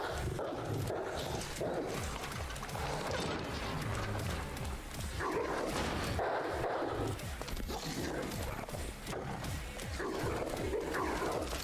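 Dogs in a video game growl and snarl in a dense, continuous animal racket, with rough bursts rising and falling across the clip and no clear speech.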